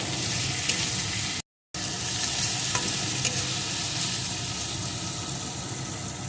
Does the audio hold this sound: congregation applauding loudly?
no